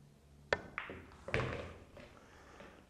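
A billiards shot on a pool table: a cue strike followed by a couple of solid ball clacks and a thud off the rail, faint and close, in a quiet room.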